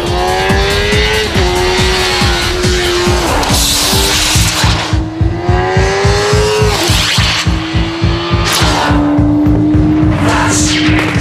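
Cars racing away from a start line, loud engines revving and shifting through gears with rising pitch, tires squealing, and a steady close mechanical roar throughout.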